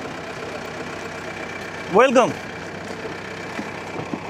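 A vehicle engine idles steadily in the background while someone briefly speaks a greeting over it.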